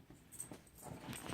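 A dog whimpers in a few short, faint whines, close by, with no talking.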